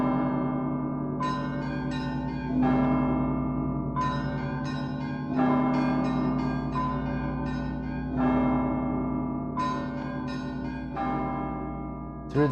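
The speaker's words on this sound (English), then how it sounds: "the crown bearers listened to the ringing of the great Rostov bells" Great church bells of Rostov, the largest weighing 32 tons, peal in a sustained ringing with deep droning hum and repeated brighter strikes in rhythmic clusters, loud and continuous with no talk.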